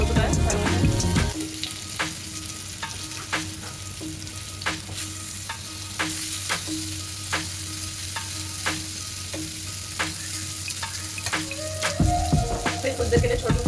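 Eggplant slices frying in oil in a pan for begun bhaja, a steady low sizzle with repeated sharp clicks and scrapes of a utensil against the pan, ending with louder clattering handling noise.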